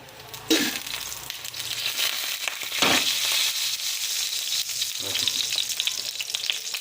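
Whole spices, including a leaf, a cinnamon stick and fennel seeds, drop into hot oil and burst into loud crackling sizzles, each addition bringing a fresh sharp sputter that settles into a steady fry, with a voice speaking over it.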